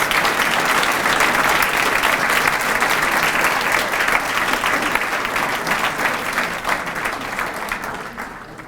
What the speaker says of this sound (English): Let's give a big round of applause for our